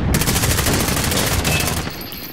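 Dense automatic and machine-gun fire from the video game Modern Warfare, a loud, continuous rattle of rapid shots that runs nearly the whole time and eases slightly at the end.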